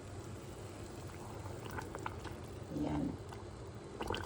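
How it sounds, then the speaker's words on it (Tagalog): Whole stonefish are dropped into a pot of boiling soup, giving a steady bubbling roar with a brief louder splash and churn midway; a voice speaks a single word over it. "Ilagay natin yung isda guys kasi malalaki na itong isda"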